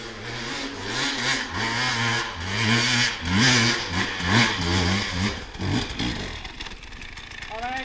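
A motorcycle engine revs hard and repeatedly on a loop-riding session, the close, rising and falling roar swelling and dropping, with brief voices alongside.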